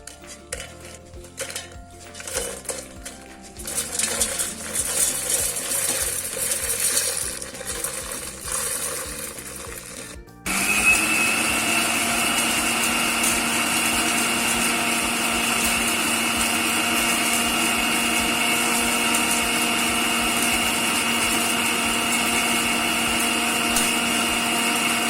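Spices for sambar powder grinding in a mixer grinder jar, first a rattling, clattering whirr as whole pieces are chopped, then a steady, loud high-speed motor whine that runs on without pause.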